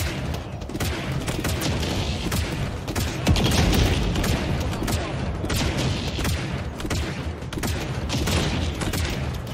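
Rockets firing and exploding during combat against Banished artillery in Halo Infinite, a dense continuous barrage of loud booms and crackling blasts with a heavier impact near the middle.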